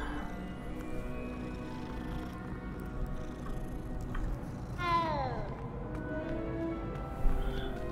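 A cat meows once in Hogwarts Legacy, a short rising-and-falling cry amid soft game ambience and background music, with a faint thump near the end.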